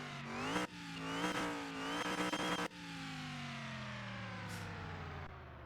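A hot rod engine in Car Mechanic Simulator on the speed track, loud and close, revving hard through several rising pulls, then dropping into a long steady drone as the revs slowly fall.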